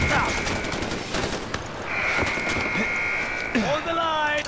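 Gunfire in the shooter game Far Cry 4 at an airfield, with dense rapid bursts and a sustained automatic volley that stays loud throughout, mixed with game voices and other battle effects.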